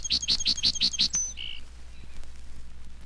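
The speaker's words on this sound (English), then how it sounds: "the gentle song sparrow" A song sparrow sings a quick run of six bright, evenly spaced notes, then a short buzzy trill, loud and clear, fading into quiet rustle.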